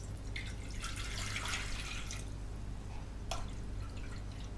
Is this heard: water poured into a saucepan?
yes